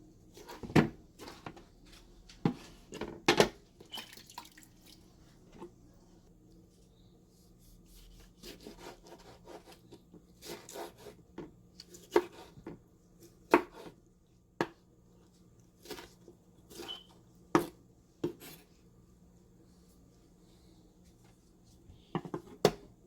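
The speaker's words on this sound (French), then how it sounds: "Découper simplement tout comme vous voyez là" Knife chopping fruit and vegetables on a wooden board for homemade tomato sauce, with scattered sharp cuts and taps, irregular and fairly close, separated by soft rubbing and shuffling of the produce.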